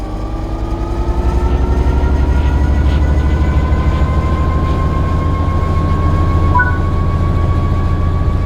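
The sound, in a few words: train accelerating under throttle in Train Sim World 3 video game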